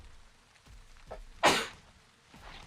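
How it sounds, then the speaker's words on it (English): A single sharp human sneeze bursts out midway, loud and close, preceded by a faint intake of breath and followed by quiet room tone. "that sneeze had to come"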